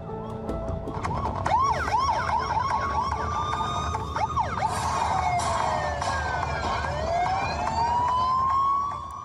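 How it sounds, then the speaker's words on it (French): Several techno-style siren tones from loudspeakers whoop and sweep rapidly in overlapping, rhythmic patterns, loud and electronic-sounding over a droning background, fading near the end. "Des sirènes en version techno qui hurlent dans les enceintes"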